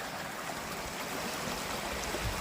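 Swapping Camp Creek, a small creek on the Appalachian Trail, flows as a steady, broad rushing and trickling wash that is even and continuous, moderately close, with no talking.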